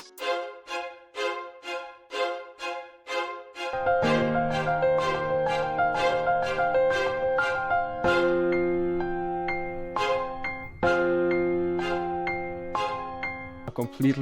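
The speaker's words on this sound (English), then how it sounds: "after the piano I went to Contact to find strings" Strings from Kontakt carry a type beat melody, opening with quick detached stabs alone, then joined by low sustained chords and repeated short notes that pulse steadily throughout.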